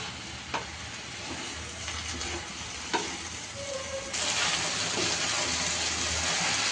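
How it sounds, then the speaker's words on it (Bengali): Okra frying in a pan with turmeric, stirred now and then, gives a steady sizzle with occasional scraping knocks of the spoon, and the frying grows louder and fuller partway through. "আমি আগেও বলেছি বারবার নেড়ে দিতে হবে, তা না হলে নিচে দিয়ে লেগে যাবে।"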